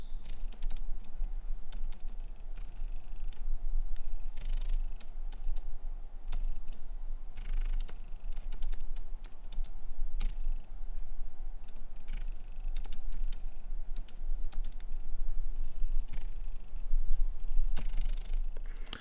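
Sony 50mm Nifty Fifty lens autofocus motor whirring and clicking close up in repeated short bursts over a low steady background hiss, loud and busy throughout.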